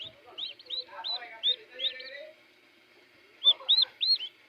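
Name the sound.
turkey poults chirping in incubator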